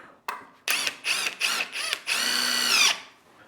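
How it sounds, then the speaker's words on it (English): A power drill whines in several short bursts, then runs in one longer push as the screw drives into wood while building a workshop sawhorse, close and loud. "drill it in"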